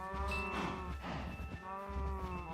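Cows in the Minecraft video game low repeatedly, their drawn-out moos overlapping one after another, loud and close, with no talking.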